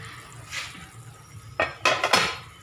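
A pot lid lifts off a pan of adobong sitaw with pork liempo, followed by a few sharp metallic clanks and scrapes of a utensil stirring against the cookware, close and fairly loud.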